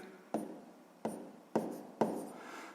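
Pen strokes on paper while writing numbers for a sixth-grade math exercise: four distinct scratchy bursts, each fading gradually, close and quiet with no talk.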